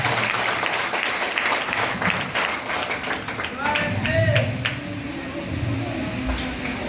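Congregation applauding during a church worship service, a dense patter of clapping that swells and fades, with voices and a few vocal cries mixed in.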